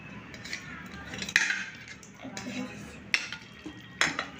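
Mutton being mixed by hand with sour yogurt in a bowl, giving soft wet squelching and stirring noises with a few sharper clinks of a utensil against the dish, fairly quiet and close with no talking.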